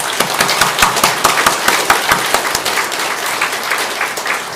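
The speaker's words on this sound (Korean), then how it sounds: "우리 방사님께 격려의 박수" An audience gives a round of encouraging applause, a loud, steady patter of many hands clapping that continues throughout and thins slightly toward the end.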